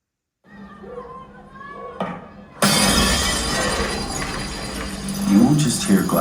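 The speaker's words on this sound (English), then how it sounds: "You won't just hear glass break." Sharp glass shattering as part of a Dolby Atmos demo played through a Samsung HW-Q990C soundbar, a sudden loud crash after a quieter build-up, followed by tinkling debris.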